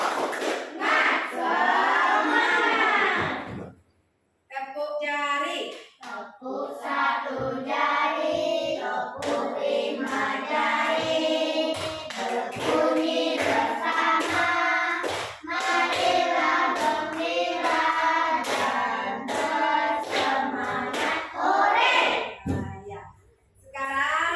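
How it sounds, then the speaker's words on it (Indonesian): A classroom of children claps hands together in a rhythmic group clapping routine, sharp patterned bursts of claps mixed with loud chanting voices, with a short pause partway through. "Tepuk semangat."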